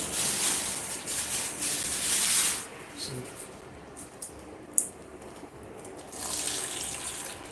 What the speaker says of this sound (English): So I add some water to the tomato paste.